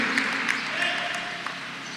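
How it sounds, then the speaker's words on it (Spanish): A church congregation claps for the Lord, a dense, steady wash of many hands applauding in a reverberant hall, moderately loud, with a few sharper claps standing out. "Dele palmas al Señor."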